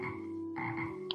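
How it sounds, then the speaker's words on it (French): Small frog in the video game Game Over Quest croaking, two or three soft, buzzy croaks in quick succession, clear and alone. "Il y a la petite grenouille."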